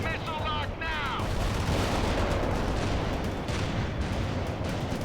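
Sustained artillery and gunfire from fire support in the World in Conflict battle game, a dense, continuous rumble of shots and blasts throughout, with a brief voice at the start.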